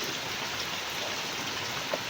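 Steady Sunday-morning rain pours down in an even, dense hiss of drops on surfaces, close and constant with no voices.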